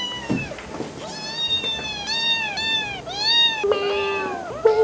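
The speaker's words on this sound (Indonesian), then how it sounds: "Ntar kucing gua berisik kan nih" A cat meows repeatedly, close and loud, in a quick run of drawn-out cries with short gaps between them.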